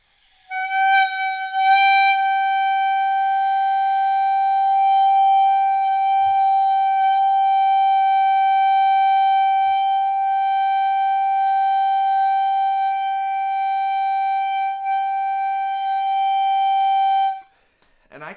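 A clarinet teacher holds a single steady long tone for about seventeen seconds, bright and even, played close with no talking over it, ending abruptly.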